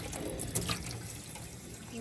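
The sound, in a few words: tap water rinsing cilantro and culantro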